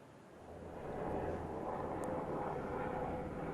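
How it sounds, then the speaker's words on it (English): A steady low rumbling drone of a military helicopter passing overhead in Tel Aviv, swelling slightly louder after the first second and holding constant. "it's just actually a military helicopter passing behind me here in Tel Aviv at the moment"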